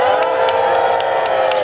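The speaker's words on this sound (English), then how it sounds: "you're cheering wildly" A crowd cheers and claps at a life-sized Mousetrap game machine at Maker Faire Detroit, with loud whoops and rhythmic clapping over a sustained mechanical tone. Voices mingle in the noise.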